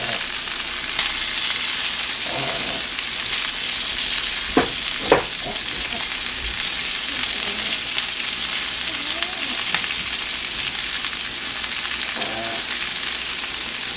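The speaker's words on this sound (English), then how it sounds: "Giving it a good mix here, swirling all the herbs around." Heavy cream and herbs simmer in a pan for a green bean casserole, giving a steady bubbling sizzle with spoon stirring, a couple of louder knocks midway and faint voice traces.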